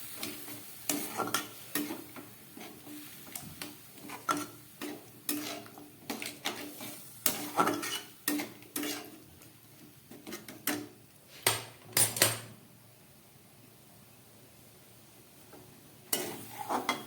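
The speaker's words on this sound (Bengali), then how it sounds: "এবার আমি এই জল সমেত ছোলাটা এর মধ্যে দিয়ে দিচ্ছি।" Chickpeas in water stirred into masala in a pan, heard as repeated close spoon scrapes and knocks in an uneven rhythm, with a few heavier clatters and brief pauses, over a faint background hiss.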